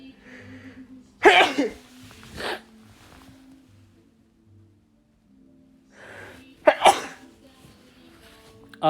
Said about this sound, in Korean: 비염 때문에 코가 좀 간지러우면은 이렇게 재채기를 합니다.